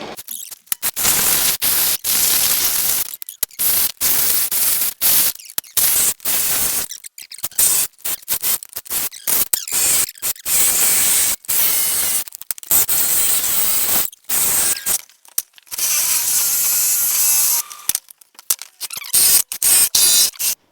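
A reciprocating saw cuts apart nailed boards, its blade chattering through wood and nails in loud, harsh bursts that stop and start repeatedly with short pauses between cuts.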